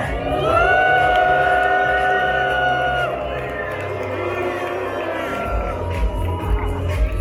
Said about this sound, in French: Je vais vous demander, s'il vous plaît, de les huer, mais le plus fort possible.